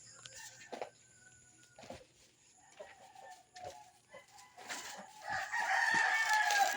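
Several roosters and hens at a rural backyard poultry yard, with rising crowing and clucking toward the end, over scattered knocks and outdoor background noise.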